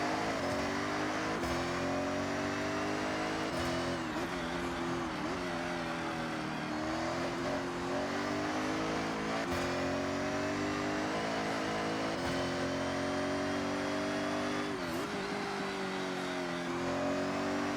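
A Ferrari F80 races in Forza Horizon 6, its engine droning loudly and steadily with rising and falling revs through gear changes, alone without talk throughout.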